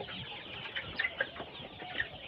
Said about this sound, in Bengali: হালকা আওয়াজ পাচ্ছি 2-1টা মুরগি